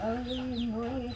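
A chicken kept at a village home in Huế, Vietnam, gives a close, drawn-out clucking call with a clear tonal quality and slight wavering pitch, heard alone and fairly loud.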